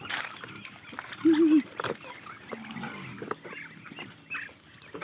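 A short burst of nasal honking duck quacks stands out briefly amid a cluttered outdoor background, with a person talking on and off nearby.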